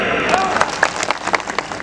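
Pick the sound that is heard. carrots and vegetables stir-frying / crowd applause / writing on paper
crowd applause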